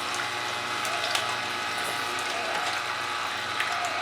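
A juicer grinds steadily through grapefruit, ginger and lemon, giving a dense, continuous mechanical whir with a rattling, gear-like texture, loud and close.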